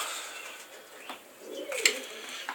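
Pigeons in a breeding loft coo softly and flap their wings, with a sharper burst of wingbeats and a short call near the end, all fairly close over a quiet background.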